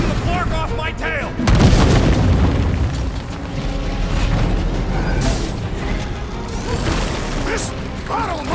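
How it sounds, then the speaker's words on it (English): Overloaded ship batteries in Guardians of the Galaxy blow up in a heavy boom, followed by sustained rumbling and clanking mechanical debris. Voices speak and shout over the din. "I can overload these batteries. Make this part of the ship go boom."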